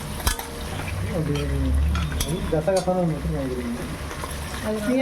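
Prawn biryani being stirred in a pot, with scraping and frying sizzle running steadily underneath voices talking over it.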